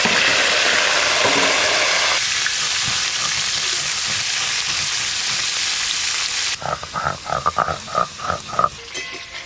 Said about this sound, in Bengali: যা আছে এগুলো একবারেই ভেজে নেব